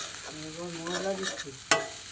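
Chow mein noodles stir-fried in a pan, a steady sizzle with scraping stirs and one sharp clatter near the end, close and alone without talk.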